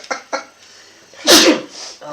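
One big, forceful sneeze, loud and close, preceded by brief sharp breaths and followed by a trailing voice.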